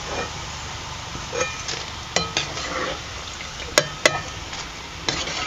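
Fried masala peanuts lifted from hot oil and dropped into a strainer, steady sizzling under scattered scrapes and a few sharp metallic clinks of the ladle, close up with no talking.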